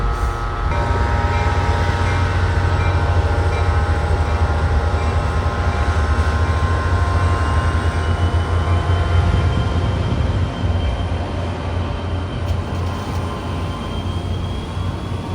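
A River Line commuter train rumbles steadily past close by near the Delair Bridge, a loud continuous roar of wheels on rails that fades slightly near the end.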